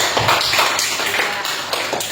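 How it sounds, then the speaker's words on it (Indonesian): Dense, steady applause from a classroom group of students, many hands clapping continuously without a break at a fairly loud, even level. "Beri tepuk tangan dulu untuk teman dari kelompok"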